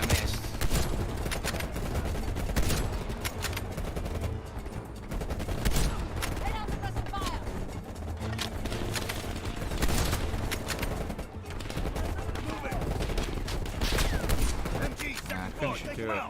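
Sustained bursts of automatic gunfire and scattered shots in a video game shooter, dense and loud throughout with brief lulls, while someone talks over the action.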